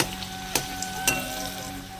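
Ripe olives fry in hot oil with a steady, close sizzle, broken by two sharp pops or clicks, for sour lentil dal tempering. No voices.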